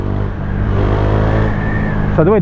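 A 2017 KTM Duke 390 motorcycle engine rumbles low and steady at close range, a deep throbbing idle that rises briefly in pitch near the end.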